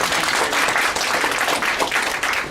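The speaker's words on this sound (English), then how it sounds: "so round of applause." Audience applause following a live open-source software demo at a tech session, a steady dense wash of many hands clapping throughout, fairly loud and close, with no talk over it.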